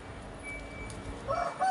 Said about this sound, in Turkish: Bu benim Topal Brezilya Levent tavuğun eşleşmesi.